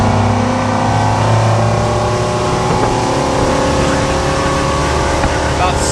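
A Regulator 26XO boat powered by a Yamaha 425 XTO outboard accelerates hard, its engine a loud, constant drone with a steady rising pitch, close and dominating.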